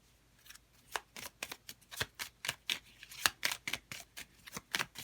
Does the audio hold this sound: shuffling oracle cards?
yes